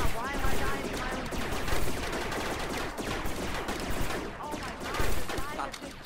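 Dense gunfire in the video game Rec Room, rapid overlapping shots in a continuous loud barrage with players shouting over it.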